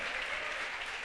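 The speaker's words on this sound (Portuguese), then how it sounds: "Pode aplaudir a Jesus." Church congregation applauding together in praise during a worship service, a steady dense wash of clapping heard briefly, fairly quiet and with no voices over it.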